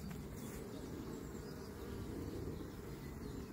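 Honeybees buzz steadily around candy feed set on three hives at an apiary in Montgeron, a dense, continuous low hum from many insects close by, with no talking.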